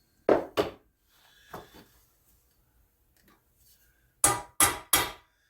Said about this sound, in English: I'm going to punch a center punch in this. And I'm not beating on it too hard because I don't want to break this manifold.